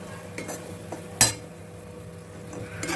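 A spoon stirs thick banana halwa with ghee, roasted cashews, raisins and cardamom powder in a pan, making soft scraping strokes, one sharp metallic clink near the middle, and a faint sizzle underneath.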